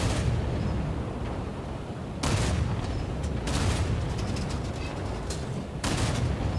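The Prinz Eugen cruiser in War Thunder firing broadside salvos, three booming blasts a couple of seconds apart over a steady loud rumble of engine and sea.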